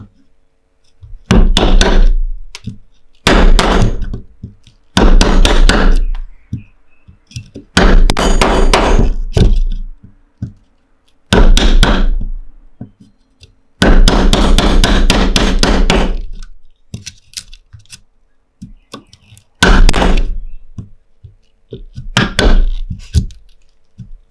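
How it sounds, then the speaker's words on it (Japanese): A carpenter hammers a wood chisel to sever the wood fibres, with bursts of sharp, loud repeated blows separated by short pauses. "この繊維方向を切るために、のみを 叩いて"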